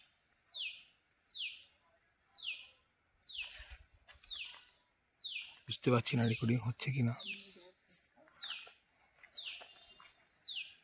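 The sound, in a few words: unidentified bird calling in a quiet forest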